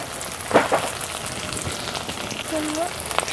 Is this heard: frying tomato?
yes